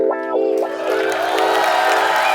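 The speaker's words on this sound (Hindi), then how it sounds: "तो आप सबकी जोरदार तालियों के बीच मैं इनवाइट करना चाहूंगा इंडियन टेनिस सुपरस्टार" A television comedy studio audience breaks into cheering and applause, a dense sustained roar with whoops, building steadily and staying loud throughout.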